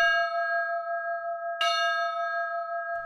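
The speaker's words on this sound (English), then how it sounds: "Barney hears chiming of church bells ringing in his little bee ears." Church bells chime with sustained, ringing tones, one clear strike renewing the resonance midway, loud and alone.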